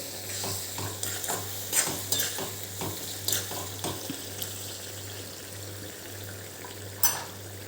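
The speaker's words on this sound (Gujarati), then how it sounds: "હવે આને એક વખત આપણે મિક્સ કરી લઈએ" Spices being stirred into a raw mango curry in a pan, with repeated scraping and stirring strokes over a low frying sizzle and a steady hum, close and with no talk.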